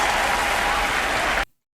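Dense applause from an anime episode's audience fills the scene, a steady wash of clapping that holds evenly for about a second and a half, then cuts off abruptly into silence.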